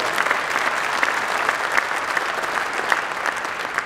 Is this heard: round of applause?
yes